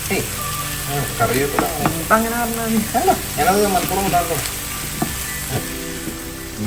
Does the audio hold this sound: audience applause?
no